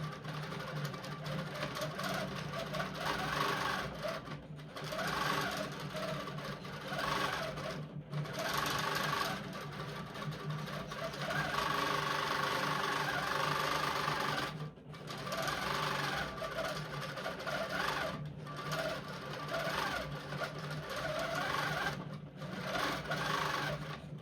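A longarm quilting machine stitches steadily across a quilt in one continuous pass, its motor whirring at close range with brief pauses and slight changes in speed throughout.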